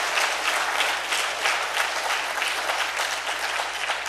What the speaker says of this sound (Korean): 다시 한번 박수 한번 드리겠습니다.